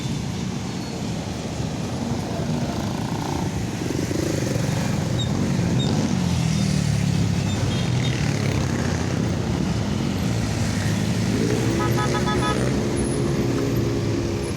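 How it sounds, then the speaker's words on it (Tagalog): Road traffic streams past near SM South Mall in Las Piñas, a dense, constant roar of engines and tyres with a louder vehicle swelling close by midway and a rising engine pull near the end. "May traffic po tayo."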